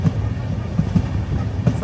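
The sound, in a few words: InterCity Express train running, heard from the sleeper coach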